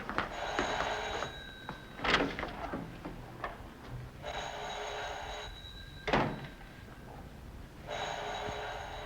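Telephone bell ringing in bursts, three rings spaced a few seconds apart, with knocks and clatter between them, moderately loud in a quiet room.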